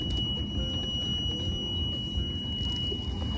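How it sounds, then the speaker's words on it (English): Aboard a Boston Whaler at night, the engine's warning alarm sounds as a steady, shrill high tone held throughout, over a low engine rumble, with no talking. "usually when the alarm is on, it says either temperature is running hot or you have low oil"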